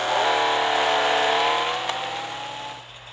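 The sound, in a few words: 1984 Ferrari Testarossa engine revving in video game Real Racing 3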